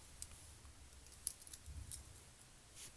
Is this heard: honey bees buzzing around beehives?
no